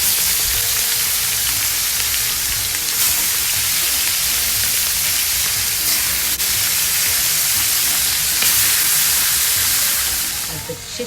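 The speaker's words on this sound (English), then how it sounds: "The chicken is sizzling in the background." Steady, loud sizzling and hissing of chicken frying in a hot pan, continuing without a break for several seconds.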